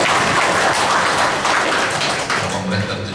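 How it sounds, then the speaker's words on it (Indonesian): An audience at a Ramadan Tarawih gathering in Yogyakarta claps in a dense, steady wash of applause, with a voice speaking over it. "Dan boleh tepuk tangan boleh."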